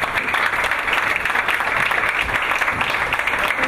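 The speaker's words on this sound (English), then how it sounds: "give a clap for my girlfriend" A comedy club audience applauds during a stand-up set, steady dense clapping filling the room at a close, even level with no talk over it.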